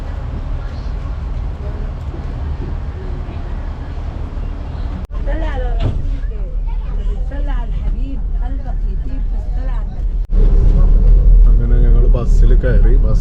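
A bus station in Ismailia, Egypt: heavy, steady engine rumble from nearby buses and traffic swells louder toward the end, while someone talks over it throughout.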